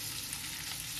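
Faint, steady sizzle of boiled potatoes frying in a pan with ground cumin, a soft crackling hiss with no speech.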